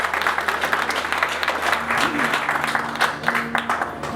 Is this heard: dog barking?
no